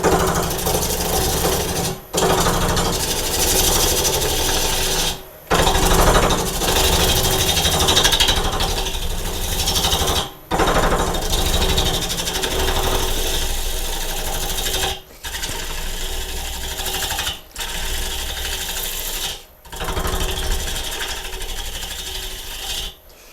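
A bowl gouge cuts a turning bowl blank on a wood lathe, removing the end: a loud, continuous rasping, chattering cut in about five long passes broken by brief pauses.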